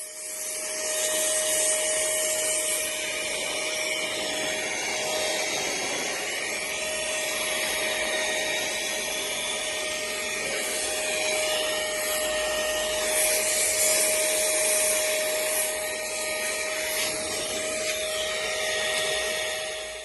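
A cordless air duster blows a steady, continuous jet of air up close, a sustained whooshing whine with a constant pitched hum running underneath for the whole stretch, with no talking.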